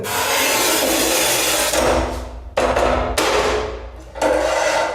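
Carriage of a Masterpiuma P5 tile cutter pushed across a tile, giving a loud, close, continuous scoring grind that breaks off into a few shorter scraping passes.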